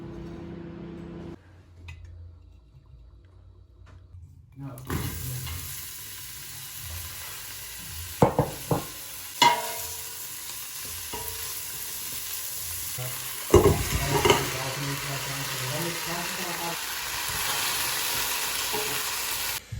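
Onion and garlic frying in olive oil, a steady close sizzle that starts abruptly after a quiet opening, broken by several sharp clatters of stirring and pan knocks.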